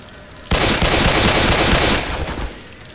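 Gunfire in the video game Left 4 Dead 2: a dense, continuous burst of rapid automatic shots, loud and close, lasting about two seconds before cutting off.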